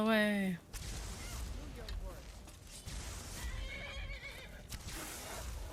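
A horse in the video game Skyrim lets out a loud whinny at the start, followed by quieter neighs and hoof clip-clops amid game sounds, with faint talk underneath.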